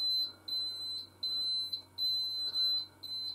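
A smoke detector's pre-alarm: a high, piercing electronic beep repeats in a steady rhythm, about twice per second, over a low constant hum, loud and close.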